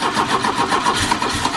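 A 32,000-mile Opel GT that has sat for 24 years cranks over and catches, a rapid rhythmic churning of the starter that turns into a rough engine firing, loud and close.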